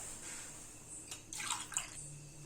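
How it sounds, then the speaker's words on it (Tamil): Water poured into a cooking pot for egg Maggi noodles gives a quiet, steady rush that briefly grows louder and splashier midway, with no talking. "இப்போ நான் 6 கிளாஸ் தண்ணி ஊற்றிருக்கிறேங்க."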